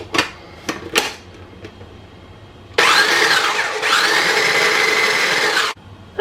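A food processor blending sun-dried tomatoes, basil, salt and pepper: a few faint clicks and knocks, then a loud steady whirring motor for about three seconds before it cuts off abruptly.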